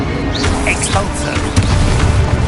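The Expulso blasting spell in Hogwarts Legacy detonates as a loud, rumbling explosion with a deep low-end boom that swells midway, layered with game effects and a shouted voice.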